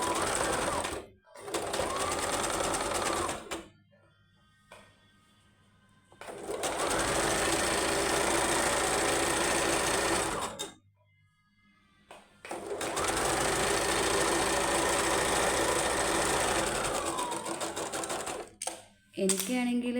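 A sewing machine stitches along a folded fabric edge, running loud and steady in three long bursts with short quiet gaps between them.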